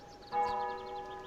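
A single bell chime in Untitled Goose Game rings out clearly and lingers with a sustained tone over a quiet background, with no talking.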